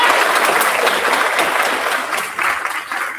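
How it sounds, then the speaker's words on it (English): A roomful of people at a school board meeting applauds students and coaches, steady close clapping that carries throughout the short moment before easing slightly, with no speech on top. "Join me one more time in giving all of our students and coaches another round of applause"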